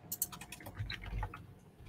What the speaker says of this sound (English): I'm just typing it in the chat so I'm ready to do all the things at the same.